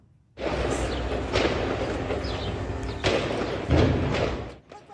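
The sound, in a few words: explosions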